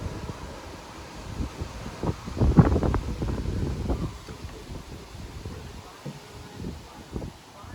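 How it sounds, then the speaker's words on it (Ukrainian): Wind gusts buffet the microphone outdoors, rising to a loud rumbling burst before easing into a steadier, softer roar. "У нас щось такий вітроган піднявся на вулиці, прям страшне."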